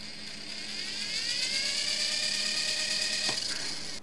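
An Esky Lama V4 RC helicopter's electric motor spins up under light throttle on a FlySky 9X transmitter, a steady close whine with rising tonal harmonics that holds for several seconds, with a brief click near the end.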